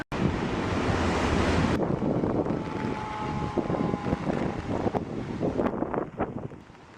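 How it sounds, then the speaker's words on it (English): Strong wind during Superstorm Sandy roaring loudly and continuously into the microphone, with heavy buffeting gusts that rise and fall throughout. "Incredible wind."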